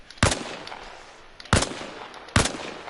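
Three sharp, loud gunshot bursts from a machine gun in a video game, spaced about a second apart, each with a short echoing tail.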